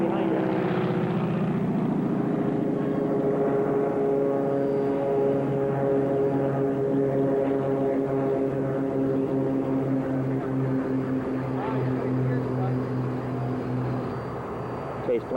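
A Northrop N9MB Flying Wing propeller aircraft drones overhead in flight, with a chase plane nearby. The engine hum is steady and tonal, fairly loud throughout, and a voice talks over it.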